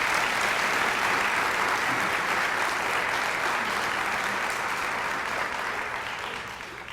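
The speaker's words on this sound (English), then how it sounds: "How about giving them a round of applause?" Steady, full applause from a crowd at a college foundation scholarship partners breakfast honoring foundation board members, loud and sustained, then tapering off toward the end.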